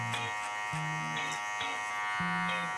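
Electric hair clippers fitted with a number 2 guard cutting a fade in a barbershop, a steady close buzz that shifts in pitch in short strokes as the blade moves through hair.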